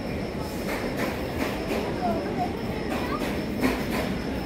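A train rumbles nearby with rhythmic clanks and a steady low drone, heard amid a busy station backdrop with faint voices.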